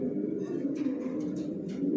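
Pigeons in a loft give low, throaty, rolling coos that overlap continuously, close by and moderately loud, with a few faint higher sounds above them.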